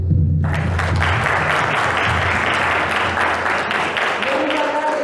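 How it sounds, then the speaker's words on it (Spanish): A conference audience breaks into loud, steady applause that begins abruptly and holds for about five seconds, dense and close. "Así que un aplauso."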